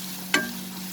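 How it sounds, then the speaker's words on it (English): Powdered coriander, cumin, red chili and garam masala are stirred into hot oil for a prawn and sponge gourd curry: one brief burst of sizzle that quickly fades to a low steady hiss, close and alone. "Let's mix it a little bit in the oil."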